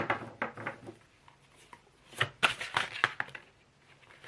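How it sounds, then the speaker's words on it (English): Crisp riffling of tarot cards being shuffled, a few short bursts of rapid flutters and taps, close by with quiet pauses between. "so I'm going to shuffle again"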